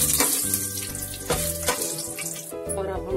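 Cumin seeds and bay leaves sizzle in hot refined oil, a close, crackling hiss with bright spitting pops that swell as the spices hit the pan.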